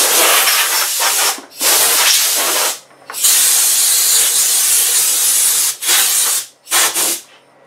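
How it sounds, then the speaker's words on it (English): Compressed air blasting in loud, close hissing bursts to clean a back mount part, several sustained sprays separated by brief pauses, ending in a few quick short bursts. "Grab a little bit of compressed air here."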